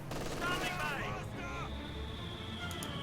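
Gunfire crackles through a Company of Heroes 2 battle as Commandos fight Pioneers, with bursts mixed into game noise and a steady tone while a commentator talks over it.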